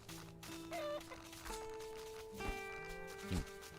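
Chickens in the video game Mr. Prepper, soft clucks and fowl calls under a steady tonal game soundtrack, quiet and somewhat distant.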